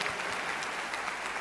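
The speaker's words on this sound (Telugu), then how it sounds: "గట్టిగా చప్పట్లు కొట్టి దేవుని మహిమపరచండి" A church congregation claps loudly together, a dense continuous wash of applause with no talk over it.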